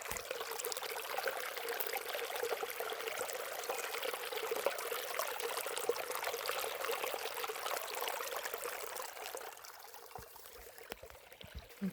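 A small stream beside a lake runs through a narrow passage and spills over rocks, giving a close, steady trickling and splashing that eases slightly near the end, with no voices.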